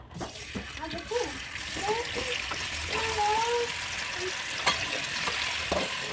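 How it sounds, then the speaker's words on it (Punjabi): Paneer fries in hot oil with a steady, hissing sizzle and faint crackles, close up, while a person talks over it. "ਸਾਡਾ ਤੇਲ ਗਰਮ ਹੋ ਚੁੱਕਿਆ ਤੇ ਆਪਾਂ ਇਹਦੇ ਪਾਵਾਂਗੇ ਪਨੀਰ ਥੋੜਾ ਫਰਾਈ ਕਰਾਂਗੇ"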